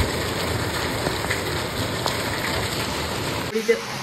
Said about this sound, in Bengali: বৃষ্টিটা কি জোরে পড়ছে শুরু দেখো।